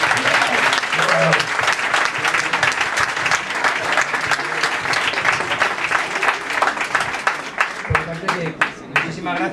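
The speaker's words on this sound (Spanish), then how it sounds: "Último aplauso a Andrés" An audience at an Irish Corner gathering in Madrid gives a warm, sustained round of applause. The many hands clap close by and steadily, then thin out toward the end as a few voices come through.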